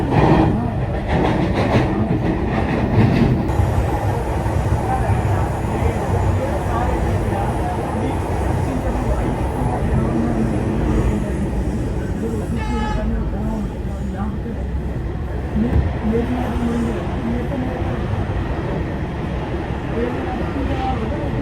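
A Delhi Metro train bound for Noida Electronic City rolls through Dwarka Mor station, a loud continuous rumble with rail clatter filling the whole stretch, station noise around it.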